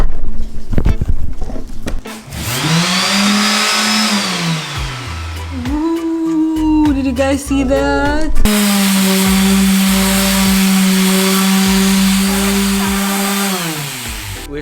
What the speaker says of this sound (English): We're sanding in order to repaint the dresser.